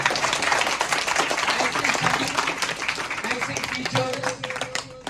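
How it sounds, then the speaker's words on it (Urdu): Loud applause for children at a school in Kashmir, many hands clapping together in a lively burst that thins toward the end as voices come through over it. "ان کے لیے زوردار تالی"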